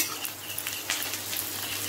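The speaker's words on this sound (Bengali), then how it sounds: "আর এখানে এই যে পেঁয়াজটাকে ভাজছি" Onion frying in a pan in a home kitchen, a close, continuous sizzle with faint stirring noises, heard alone without talk.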